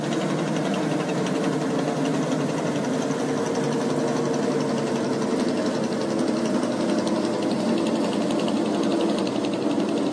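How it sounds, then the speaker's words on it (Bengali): A trawler boat engine at a launch ghat in Bangladesh chugs steadily and continuously, a dense mechanical drone that stays loud throughout, with no talking. "ট্রলার আসতেছে ভাই"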